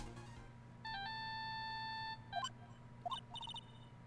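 A phone ringing in the PS4 video game Ace Attorney, sustained electronic tones followed by short beeping chirps, clear and alone.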